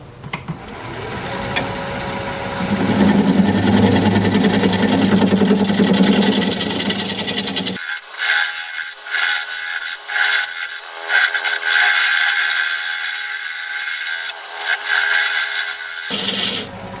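Maple crotch bowl spinning on a wood lathe while its bottom is turned: a loud, steady rough cutting drone, then a thinner, quieter whirring hum with intermittent scraping.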